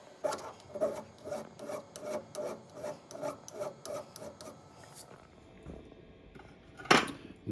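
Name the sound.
filing a small nib off an engine oiler part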